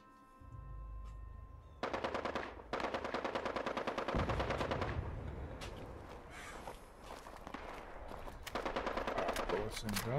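Gunfire from the video game Fallout 76 rattles in rapid automatic bursts, loud and close, alternating with shorter pauses, with footstep-like thuds and a low rumble at the start and brief gaps between volleys.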